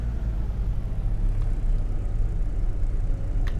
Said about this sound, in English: I've heard some complaints about this car, how it like revs really high.